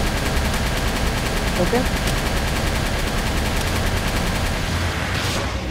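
A rocket launcher fires during a Palworld boss fight against Paladius and Frostallion, amid dense rapid gunfire-like crackling that stays loud and continuous, with a voice speaking briefly over the barrage.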